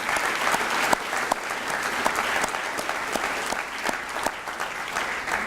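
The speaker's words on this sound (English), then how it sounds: "Let's give all of the teachers in our district a round of applause" Sustained applause from a large room of people honoring district teachers at a school breakfast event, a dense steady wash of many hands, moderately loud and continuous throughout.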